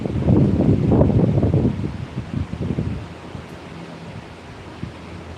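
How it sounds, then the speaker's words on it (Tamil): Strong wind blowing outdoors, buffeting the microphone with a loud broadband rumble and rustle over the first three seconds, then easing to a quieter steady whoosh. "என்னக்கா காற்று பலமாக இருக்குது?"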